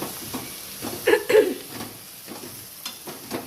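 Potatoes hit a hot pan and sizzle, with a couple of sharp louder spatters and stirring scrapes against a low, steady frying hiss.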